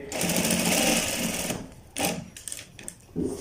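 A sewing machine stitches the leg seam of a child's pajama, running steadily and loud for about a second and a half, then breaking into short separate bursts with pauses between them.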